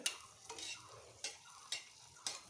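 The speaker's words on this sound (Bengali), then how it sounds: "কড়ার মধ্যে একটু সামান্য তেল দিয়ে দিলাম এর মধ্যে একটু শুকনো লঙ্কা পুরন দিয়ে দিলাম" Dried red chillies frying in a little oil in a wok, with a soft continuous sizzle and several sharp scraping stirs of a spatula at regular intervals, close by with no talking.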